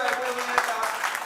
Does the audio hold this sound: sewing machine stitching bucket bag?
no